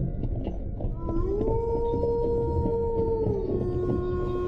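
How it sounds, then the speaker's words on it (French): A long, mournful wolf howl rises and holds, sounding distant, over a rushing background of wind or noise. "le hurlement des loups."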